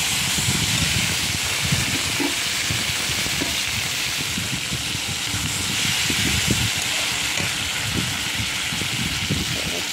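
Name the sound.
prawns frying in oil with mustard seeds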